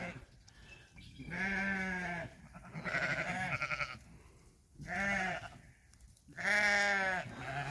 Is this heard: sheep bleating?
yes